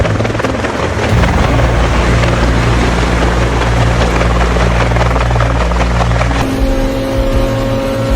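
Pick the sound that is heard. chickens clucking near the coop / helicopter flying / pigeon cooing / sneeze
helicopter flying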